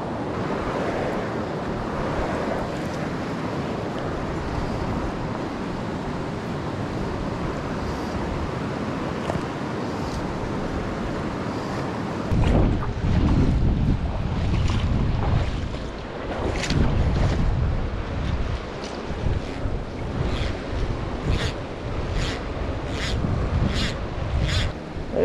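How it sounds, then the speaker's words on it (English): Rushing water swirls around a rock at a mountain spillway in a constant loud roar. It grows rougher and more turbulent partway through, with sharp splashes and gusts of wind noise. "This rock that's creating this like vortex of water."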